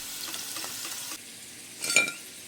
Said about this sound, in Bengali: এইভাবে উল্টে পাল্টে খুব ভালো করে আমি ভেজে নেব।